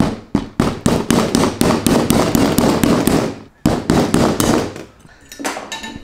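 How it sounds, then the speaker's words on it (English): Rapid sharp metallic taps from a hammer striking the tip of a pick tool, a fast steady series with a brief pause midway, loud and close. "then I'm going to hammer away right here at the tip"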